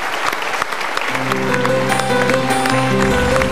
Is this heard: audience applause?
yes